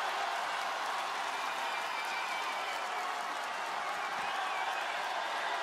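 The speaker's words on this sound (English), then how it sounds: "This crowd wants Bro." A large wrestling arena crowd at a WWE Raw event cheers and claps in a dense, continuous roar that stays loud and steady throughout.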